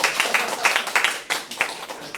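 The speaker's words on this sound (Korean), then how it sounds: "박수 쳐드려야죠." A small group applauds at the close of a community learning-center writing class, a short burst of uneven hand claps, close and fairly loud, with some voices mixed in.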